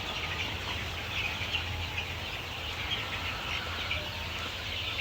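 Young laying hens cluck softly and continuously in a coop, a steady murmur of many birds with no voices over it.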